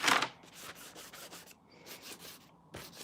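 A black ink pad scuffs along the edge of a paper journal page, giving soft, close, dry rubbing strokes in short bursts with brief pauses between them.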